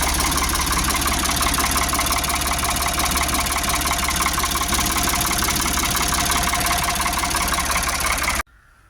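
A 4.6 engine idling after being repaired: a loud, steady, close rumble with a faint rhythmic knock that runs evenly, then stops abruptly near the end.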